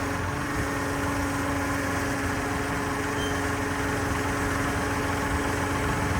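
Truck engine running at a slow crawl, a steady close low rumble with constant vibration and no change in pace, alone without talk.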